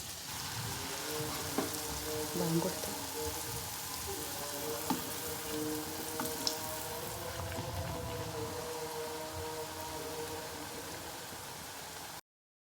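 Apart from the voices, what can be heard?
snacks deep frying in a hot pan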